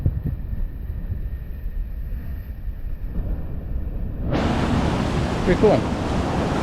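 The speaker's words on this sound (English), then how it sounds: "it's actually a pretty nice view watching the waves hit the rocks" Ocean surf washes in against rocks as the tide rises, a steady broadband rush that swells louder about two-thirds through, with a brief spoken remark over it.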